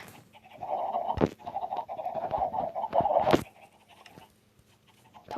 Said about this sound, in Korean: 닭들이 시끄럽네.